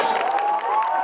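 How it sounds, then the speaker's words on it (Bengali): Audience applause and cheering at an Independence Day concert in Tazumuddin, a dense, steady wash of clapping and crowd noise that holds for the whole second with a brief dip near the end. "তার জন্য সদরে একটি করতালি হয়ে যাক।"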